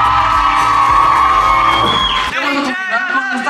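A crowd at a street performance in LA whoops and shouts loudly, first under bright music, then on its own once the music cuts off, with voices yelling nearby.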